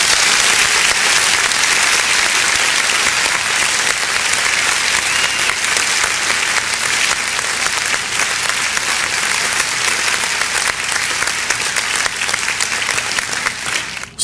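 An audience applauding at a church service, dense sustained clapping from many hands that carries on steadily for the whole stretch, loud and even with no break.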